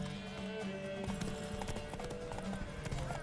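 Steady clip-clop of horse hooves on ground in The Witcher 3: Wild Hunt, a continuous trotting rhythm heard at a moderate distance over a dense game background of ambience and music.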